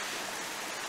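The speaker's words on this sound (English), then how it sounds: "another creek, as you can probably also hear. So we've got a couple little cascades here." A small mountain creek tumbles over a couple of little cascades in New Hampshire pine woods, a steady close rushing wash of water with no pauses and no voices.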